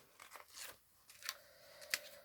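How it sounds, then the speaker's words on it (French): Leftover adhesive tape being peeled off a scrapbooking album page, a few quiet close-up tearing and crinkling rips in short separate bursts, faint and alone. "on enlève le reste du scotch."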